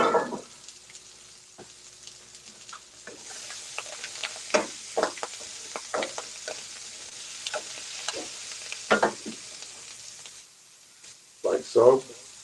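Mushrooms frying in a pan, a soft continuous sizzle with scattered crackles and clicks, plus a short burst of talk at the start and near the end.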